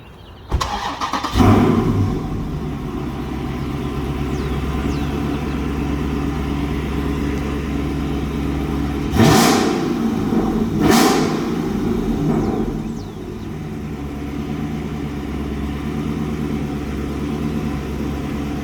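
A car with an MFER-1 active exhaust delete starts up with a loud engine rumble and settles into a steady idle, then two sharp revs rise and fall before the idle continues.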